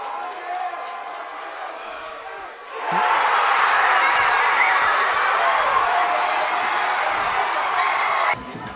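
A high school football stadium crowd erupts in a loud, sustained roar after a 40-yard championship-winning field goal, the cheering swelling suddenly and holding steady before cutting off.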